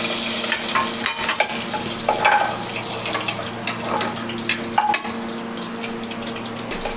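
Curry leaves frying in hot oil for Guntur-style kichidi, a steady close sizzle with scraping stir noises and clatter from the pan throughout, no talking.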